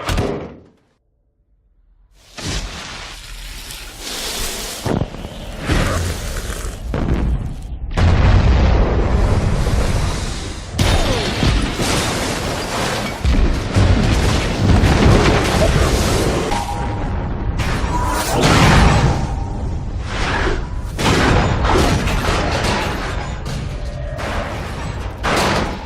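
Nuclear weapon detonation effect: after a brief silence, a massive booming blast erupts and rolls on as a loud, sustained rumbling roar with repeated crashing surges, no talking.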